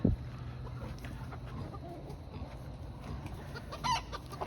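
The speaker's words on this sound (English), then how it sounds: "While we watch these chickens fight, while we watch these roosters fight" Roosters fighting, clucking and squawking amid scuffling, with a sharp outburst at the start and another flurry near the end over steady barnyard background noise.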